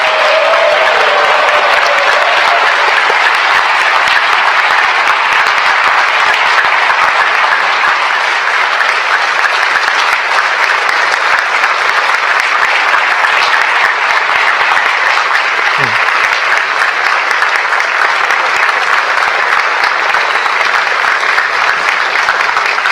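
Dense, continuous applause from a large audience at a presidential inauguration ceremony, loud and steady for over twenty seconds with a faint murmur of crowd noise and a few scattered cheers underneath.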